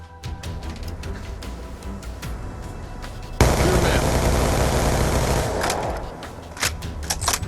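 Vector K10 submachine gun fire in Black Ops 2: rapid bursts of shots, then a dense, loud sustained volley lasting a couple of seconds before tapering, close and punchy.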